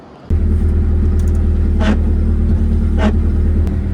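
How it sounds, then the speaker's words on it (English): A car engine starts up and runs as a loud, continuous low drone nearby. Two short breathy bursts rise above the steady rumble. "someone else is revving out there"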